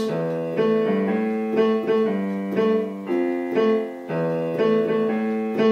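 A sustained, harmonically rich instrument improvises on the A blues scale, playing a few repeated notes in short phrases separated by brief gaps, steady and close.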